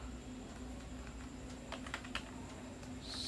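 Keys click on a computer keyboard in short, irregular bursts of typing, close and fairly quiet over a steady low electrical hum, with no talking.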